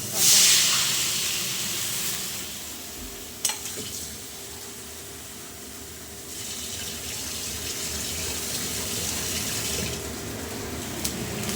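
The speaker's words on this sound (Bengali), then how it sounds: "জল ঢেলেছি, এরপরে আবার ফুটে এলে মাছ" Water poured into a hot pan for a Bengali fish curry, a sharp hissing splash at the start settling into a steady sizzle and bubbling close by, with a few light clinks.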